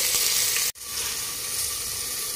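Okra and other vegetables fry in hot oil in a pan with a steady, close, bright sizzle, briefly cut off by a sharp break before the hiss returns at full strength.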